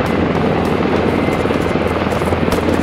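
A helicopter's rotor and engine roar loud and close with a continuous, steady thrum, heard alone during a military operation.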